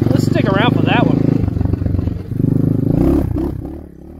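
A 2020 EGL A16 250cc mini bike engine runs steadily at low throttle while idling and putting around, a loud continuous engine drone with slight revs and a brief dip midway, alongside voices and crowd chatter.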